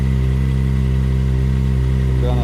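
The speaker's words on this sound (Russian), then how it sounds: "4-цилиндровый мотор Kawasaki ZX25R требует времени на прогрев." A Kawasaki ZX-25R four-cylinder motorcycle idles steadily while warming up, a loud, close, even engine drone with no change in pitch throughout.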